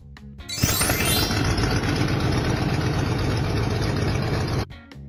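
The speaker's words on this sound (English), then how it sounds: "Biplane." A biplane's engine gives a loud, steady, rumbling drone close by. It starts suddenly, holds level for several seconds, then stops.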